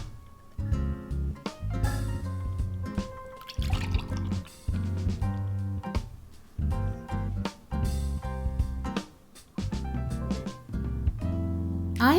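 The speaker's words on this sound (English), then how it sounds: "Drain chickpea liquid and save some liquid for sauce." Liquid drains from a can of chickpeas in short dribbling pours and drips, close and clear, stopping and starting several times with a background hum.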